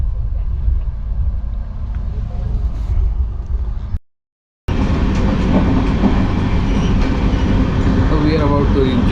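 An Indian Railways passenger train rumbles along, heard from inside a second AC coach, with a steady low clatter of the wagons, a brief dropout, then louder running noise as people talk in the background.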